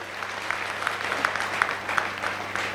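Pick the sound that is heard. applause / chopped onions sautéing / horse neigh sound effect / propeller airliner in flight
applause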